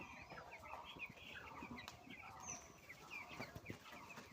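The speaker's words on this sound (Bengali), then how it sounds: "এই যে আমাদের মুরগি, এটা একটু বড় সাইজ।" Broiler chickens in a large farm shed holding about a thousand birds cluck and murmur faintly in a steady, scattered chorus, with occasional sharper calls rising above the soft background.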